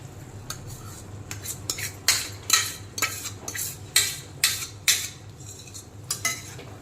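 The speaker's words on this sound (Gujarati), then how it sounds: "બનેલી ખીચડી આપણે અંદર નાખી દીધી છે, અને હવે બરાબર સારી રીતે એને આપણે મિક્સ કરી દઈએ" Cooked navratna khichdi being stirred and mixed into a pan: a spoon scrapes and knocks against the metal in a loose rhythm of strokes, close and clear, over a low steady hum, with no talk.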